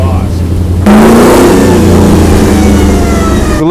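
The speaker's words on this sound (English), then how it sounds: "MagnaFlow really did a killer job on the exhaust" A Dodge Charger fitted with a MagnaFlow exhaust revs hard up close, a loud rising engine roar that kicks in suddenly and holds, over a low rumbling idle, with a voice talking over it.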